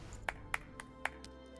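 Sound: clapping in video game

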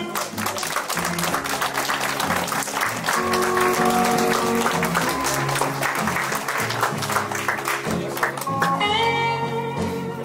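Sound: applause at a quinceañera party

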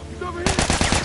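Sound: gunfire in The Last of Us Part 2 video game

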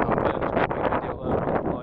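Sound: strong wind

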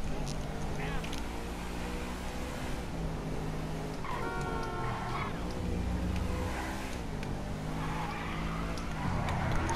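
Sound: car drifting with tire squeal in video game Grand Theft Auto 5

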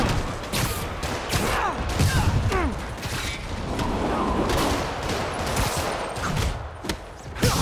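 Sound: rocket launcher explosions in Marvel's Spider-Man video game

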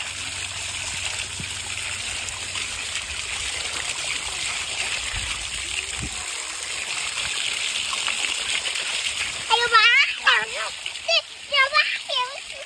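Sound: children splashing water while bathing

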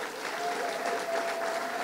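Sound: audience applause in church for the piano player

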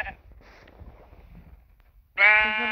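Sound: sheep bleating in a video game

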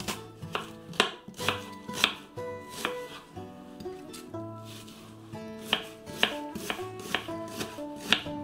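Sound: finely chopping onion with a knife

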